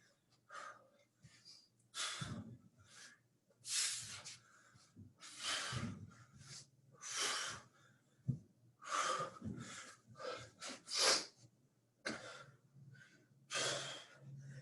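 Heavy breathing during a bootcamp-style workout: repeated loud, close, hissing inhales and exhales in uneven bursts separated by brief pauses, with no talking.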